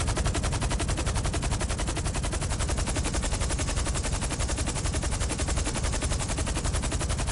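Rapid, dense machine-gun fire in GTA Online rattles continuously for several seconds, a steady loud barrage with no pauses and no voices.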